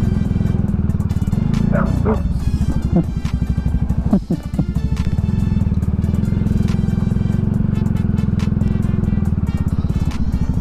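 A small dog barks a few times close by, half buried under the loud, constant rumble of an idling motorcycle engine.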